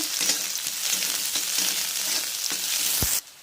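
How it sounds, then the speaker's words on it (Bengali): Chopped onions and green chillies fry in hot oil in a pan, a loud, close, continuous sizzle broken by spatula scrapes and knocks, then a sharp clack and an abrupt cutoff at the end. "মিডিয়াম সাইজে দুটো পেঁয়াজকে কেটে নিয়েছিলাম দিয়ে দিলাম একটু নাড়বো"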